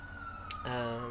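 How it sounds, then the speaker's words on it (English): Emergency sirens pass outside, a faint wailing tone heard from indoors against quiet room background. "here goes the sirens"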